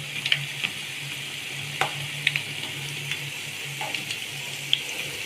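Bal el sham dough frying in hot oil, a steady soft sizzle with a low bubbling hum and scattered sharp pops and crackles throughout, close and alone with no voices.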